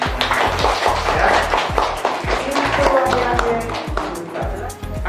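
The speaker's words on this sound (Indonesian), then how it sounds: "Silakan beri tepuk tangan untuk kalian semua." A crowd claps at an arts-studio visit in Yogyakarta, dense continuous patter that runs the whole time beneath voices and a steady, bass-heavy musical backing.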